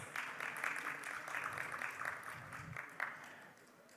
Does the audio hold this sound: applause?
yes